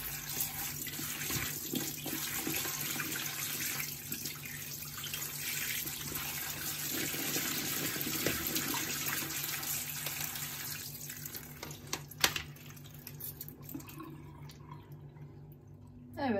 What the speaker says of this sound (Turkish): Şimdi bol suyla yıkayacağım